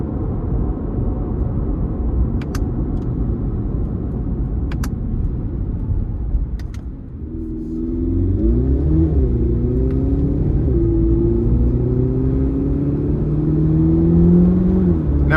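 A 2026 Chevrolet Corvette ZR1 3LZ engine rumbles loudly from the driver's seat, then surges under throttle with a rising, revving tone that climbs and wavers as the car accelerates, with no talk.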